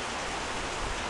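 Steady rain falling, a dense, even hiss of drops on surfaces with no other sounds, continuous throughout.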